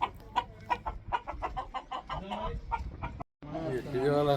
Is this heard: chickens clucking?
yes